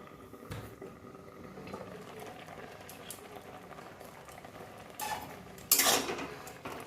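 Tomatoes with green chillies boiling in a covered pot, a soft steady bubbling close by, with a few clinks of the pot and lid near the end.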